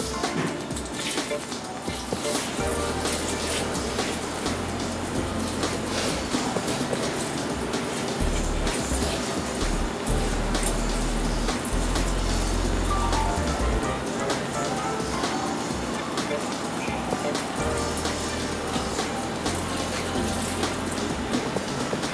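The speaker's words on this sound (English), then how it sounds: "So I'm going to go ahead and introduce the water now." Water pours steadily into a cold brew coffee maker, a continuous broadband splashing and gushing that stays loud and even for over twenty seconds with no voices over it.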